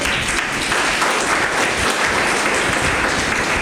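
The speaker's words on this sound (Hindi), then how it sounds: "इनके लिए जोरदार क्लैप करिए प्लीज" Steady, loud clapping fills the hall as an audience of teachers and principals at an academic leadership workshop applauds continuously.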